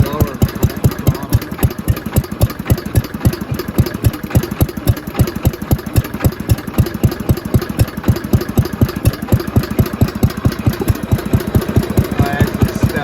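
Small Mity Kat bulldozer engine running at low throttle, a close, steady rapid chugging pulse throughout with a faint voice underneath.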